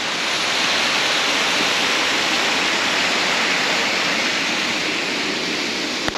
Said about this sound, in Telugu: చూడండి మీరు కూడా వాటర్ ఫాల్స్ ఎలా వస్తున్నాయి